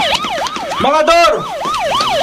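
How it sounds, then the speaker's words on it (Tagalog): Loud ambulance siren with a rapid wailing, rising-and-falling tone that repeats steadily through the clip, briefly breaking into a different higher warble partway through, close and dominant. "Nasa ambulansya na si Morel"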